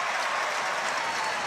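A sold-out crowd cheers at Dodger Stadium during a Dodgers–Padres baseball game, a dense, steady roar of applause and shouting that fills the space without letup.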